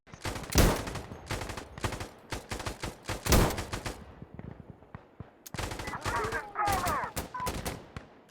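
Rapid gunfire bursts in the video game Insurgency Sandstorm, sharp repeated shots and machine-gun strings close and loud, with a couple of especially heavy blasts and some faint voice underneath.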